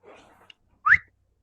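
A person whistles once: a single short, bright rising note, close and clear, following a faint murmur and a small click.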